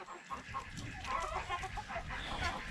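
Several chickens cluck and murmur in a yard, a busy overlapping chorus of short clucks heard at moderate distance, fairly quiet, with faint rustling and outdoor ambience underneath.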